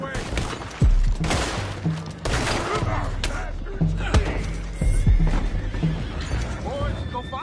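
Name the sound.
horses neighing in video game Red Dead Redemption 2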